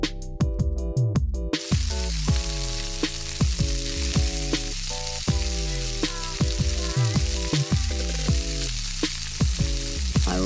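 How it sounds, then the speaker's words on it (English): Loud, steady sizzling and bubbling of food deep frying in hot oil in a Japanese restaurant kitchen, continuous and close, with occasional clinks of utensils. "I really enjoy this deep frying sizzling sound."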